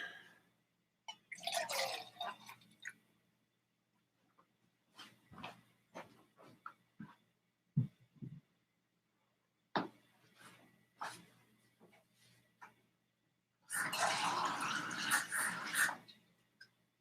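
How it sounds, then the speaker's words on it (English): Water poured into a shot glass of whiskey, with splashing, trickling bursts near the start and end and a few sharp drips and clinks of glassware between, recorded close. "Added some water to that shot to help it get down a bit quicker"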